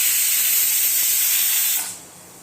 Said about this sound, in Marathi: आता कुकरला दोन शिट्ट्या करून आपण हे मिश्रण शिजवून घेऊया